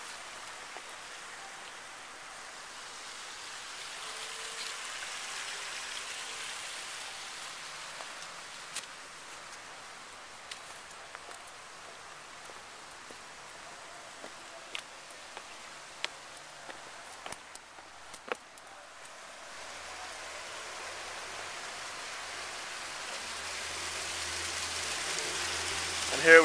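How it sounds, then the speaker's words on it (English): A large landscaped backyard waterfall built with boulders in the Jamison, Pennsylvania area of Bucks County gives a soft, steady splashing hiss, with scattered small clicks and a gradual swell toward the end. "we installed a big waterfall with all these boulders"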